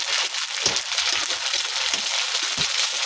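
Loud, dense sizzling of pani puri frying in hot oil, with occasional soft bumps and stirring sounds, continuous throughout.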